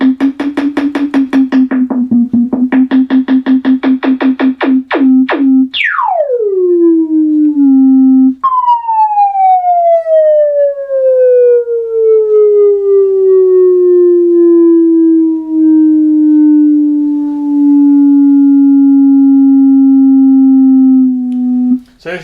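A Minimoog synthesizer plays a buzzy repeated tone, then single notes whose pitch and filter sweep down sharply before settling into a long sustained tone with a slow decaying glide.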